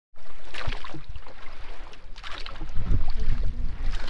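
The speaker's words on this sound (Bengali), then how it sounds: "যত হাওয়া চলছে না নৌকা তত দুলছে" A rowboat rocks on the lake at Maithan Dam in gusty wind, with steady wind rush, water slapping against the hull and low hollow thumps. No one speaks.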